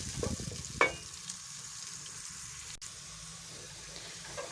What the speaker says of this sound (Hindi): 2 दरमियाने साइज़ के टमाटर मैंने काट के देगची में डाल दिए हैं और इसमें मैंने 2 चम्मच घी का लिया है।